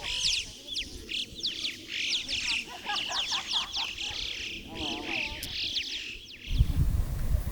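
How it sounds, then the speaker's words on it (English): Birds flying past over a green alpine meadow in the Alps give repeated bright chirps and calls, fairly faint, with rustling wind noise underneath and a burst of low rumble near the end. "And then all these birds flew by."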